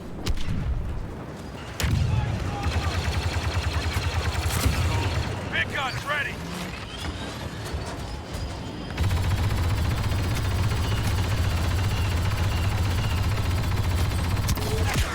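Heavy-weapon trooper in Star Wars Battlefront II laying down sustained suppressive fire, long dense bursts of loud rapid gunfire with a brief lull, then continuous firing to the end, mixed with battle noise and talk.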